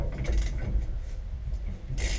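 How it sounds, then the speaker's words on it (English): A wrench works a steering wheel nut loose on a Ford F750 haul truck, giving close scraping, grinding metal rasps and ratchet-like clicks with a brief sharp burst near the end. "What I'm going to do is break this nut free and try and pull the steering wheel off."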